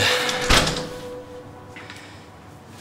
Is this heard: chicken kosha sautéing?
no